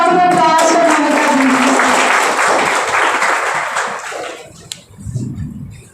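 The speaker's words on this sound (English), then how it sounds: "A big round of applause for Mamita" A college audience at an Engineer's Day 2022 function breaks into a loud, dense round of applause that thins out and fades near the end, with a few scattered claps trailing off.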